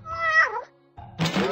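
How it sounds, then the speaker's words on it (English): Stuffed kitty toy in a kids puzzle video game gives a clear, close meow, followed after a short pause by a soft thunk and rustling clatter. "Stuffed Kitty."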